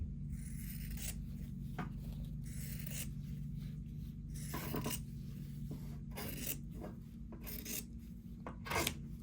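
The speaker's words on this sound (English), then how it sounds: "now what I'm going to do is cut right down this drawn line" Scissors cut through quilt fabric along a drawn line, with repeated soft rasping snips and rubbing strokes over a steady low hum, close and quiet.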